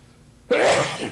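A single sudden sneeze bursts out of near silence, loud and close, trailing off quickly.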